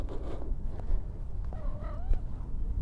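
A house cat gives a couple of soft meows at close range over a low background rumble, with small rustles between the calls.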